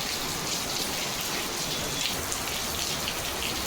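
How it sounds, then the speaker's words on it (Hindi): Heavy rain pours down steadily under dark clouds, heard from a house rooftop as a dense, even hiss with no gaps or voices. "आसमान में काले बादल छाए हुए हैं और पूरी मतलब तेज बारिश हो रखी है"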